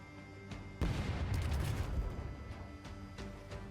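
Cannon fire in the pirate video game Rogue Waters: one heavy boom lands sharply and rolls into a long rumbling blast, with a few fainter thuds trailing off behind it.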